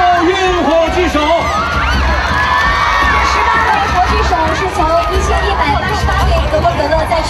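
A large crowd at an Olympic torchbearer launch ceremony in Beijing cheers and shouts continuously and loudly, with high excited voices and babble filling the whole stretch.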